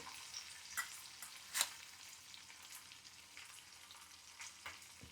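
Fenugreek seeds fry in hot oil for a curry, giving a steady faint sizzle with scattered small pops and crackles and one sharper spatter midway, with no one talking.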